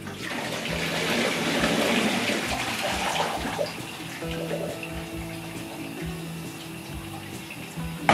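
Pot of spaghetti water being poured off into a sink while cooking carbonara, a loud rushing, splashing stream that gradually tapers into lighter trickling and dripping, with a few soft kitchen clunks near the end.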